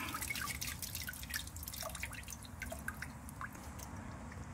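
Coolant drips steadily from the drained cooling system of a Mitsubishi Shogun/Pajero MK4 with a 3.2 Di-D engine, many small close patters over a continuous low rumble, with no talking.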